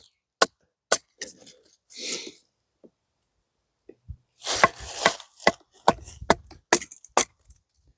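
A D2 steel fixed-blade knife strikes wood tip-first in a series of sharp, close, percussive knocks, sparse at first and then coming in a denser, quicker cluster with brief rustling between hits.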